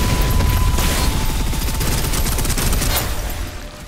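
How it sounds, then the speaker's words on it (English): Suppressive gunfire in the video game Snowbreak: Containment Zone, a dense, loud, continuous rattle of rapid automatic shots with booming low end that thins out near the end. "Fully loaded. Suppressive fire."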